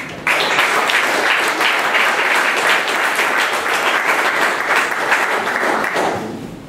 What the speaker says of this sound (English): please give a warm round of applause to Mark with ReSell Solutions